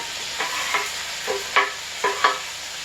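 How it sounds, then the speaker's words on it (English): Tomatoes, carrots and dandelion leaves sauté in a pan for a vegan pot pie, under a soft continuous sizzle with a handful of evenly spaced spoon scrapes and taps close by. "Mix that all up. And so we're basically going to saute the vegetables."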